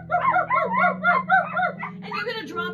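People mimicking a dog's barking during a kids' yoga pose, a quick run of about five or six rhythmic vocal woofs followed by a shorter, higher-pitched yip-like call.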